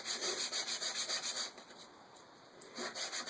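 Sandpaper rubs against a segmented wooden Christmas ornament spinning on a lathe, a steady rhythmic scratchy hiss that pulses in quick strokes, eases off in the middle, then resumes close and clear with no talk.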